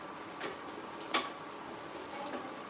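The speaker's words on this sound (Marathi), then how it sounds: "थोडासा अजून आपण कांदा परतून देणार आहे" Onion sautéing in a pan, a soft, steady sizzle with occasional light scraping taps of stirring, quiet and close.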